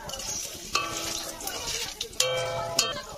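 Whole cardamom, cinnamon, cloves, star anise and bay leaf fry in hot oil in a pan, giving a quiet sizzle broken by a few sharp clinks of utensils against the pan.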